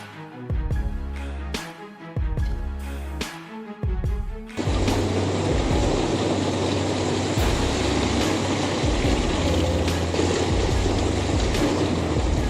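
An industrial drum wood chipper shreds entire tree trunks: loud, continuous heavy machine roar with grinding, crunching bursts; early on it surges and drops in chunks, then settles into a sustained dense industrial grind.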